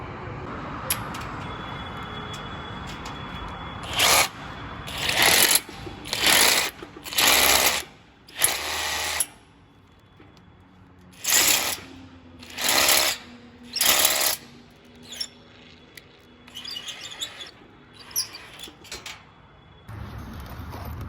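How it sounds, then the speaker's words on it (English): A power drill grinds into concrete, drilling holes for anchor bolts in about eight short bursts separated by pauses, loud and close, with quieter handling noise between. "now we got to drill through to put in the new anchors"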